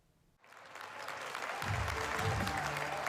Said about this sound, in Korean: 관객석에선 반가움의 박수가 터져나옵니다